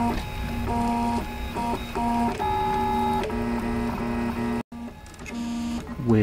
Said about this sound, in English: Here's a shot from the back of the printer.